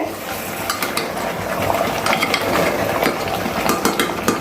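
Chicken stir-fried in a pot, a busy close clatter of a metal spoon scraping and knocking against the pot over a continuous low frying hiss, steady and fairly loud throughout without speech.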